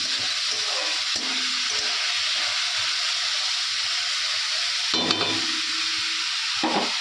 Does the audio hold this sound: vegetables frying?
yes